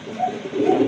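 A caged Lahori pigeon, a yellow-toned pair, gives a short, close, low cooing call lasting under a second, with no speech.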